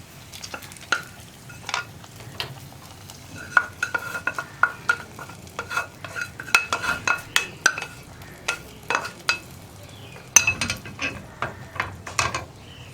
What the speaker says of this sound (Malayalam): നമ്മുടെ വറവ് റെഡിയാക്കിയത് ഞാനിപ്പോൾ കറിയിലേക്ക് ആഡ് ചെയ്യാണ്.